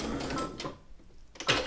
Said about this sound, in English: Just do a couple of back stitches.